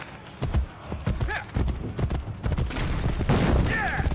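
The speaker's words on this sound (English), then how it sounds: "Faster to travel by horse." Horse hooves clip-clop at a gallop in the Assassin's Creed Brotherhood video game, a quick steady patter mixed with game sound effects and a brief whinny.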